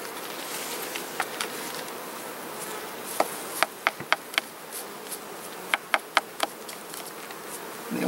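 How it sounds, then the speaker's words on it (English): Honey bees buzz around a hive frame as they are brushed back into the box during a July honey harvest, a soft steady hum of many insects with sharp, scattered brush strokes and crackles. "So I can just mostly brush these bees back into the box instead of shaking them."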